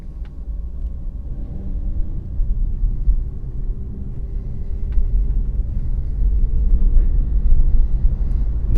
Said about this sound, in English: The car has this kind of like the electric car slight quiet whine